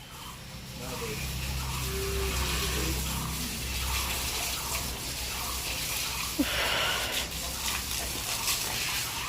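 Water pours and gushes steadily across a floor as dung is washed away, a continuous close splashing wash with a faint voice underneath.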